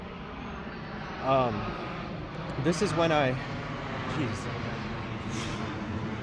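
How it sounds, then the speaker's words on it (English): An airplane passes directly overhead, a broad steady engine roar filling the background under a man's close, intermittent talking. "Here comes another plane, by the way. I'm sorry if it's loud."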